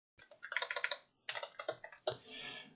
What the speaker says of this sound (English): I keep on clicking enter.